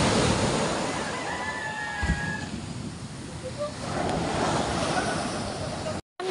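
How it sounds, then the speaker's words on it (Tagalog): Sea waves washing in a steady broad rush, recorded close on a phone with wind buffeting the microphone and a brief dropout near the end. "Ang laki ng tubig ng ng ating dagat."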